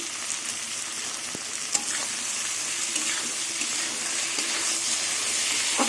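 Green chilies and chili powder fry in a pan, giving a steady close sizzle with occasional stirring clicks and light scrapes throughout, and no voices.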